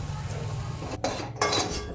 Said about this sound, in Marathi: वटाणे एका भांड्यामध्ये काढून घेते